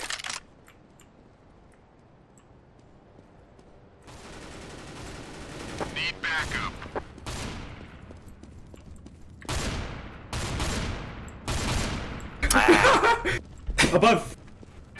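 Shotgun blasts in Counter-Strike: Global Offensive, several loud booming shots in irregular bursts, some close together, rising toward the end over game ambience and faint voices.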